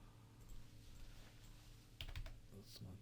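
Typing on a computer keyboard, with soft rapid key taps in a couple of short bursts under faint background hum.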